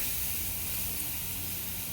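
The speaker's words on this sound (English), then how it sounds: "Ooh, hear that sizzle." Pork sizzles on a hot grill in a steady, close, dense hiss that holds level throughout with no pauses.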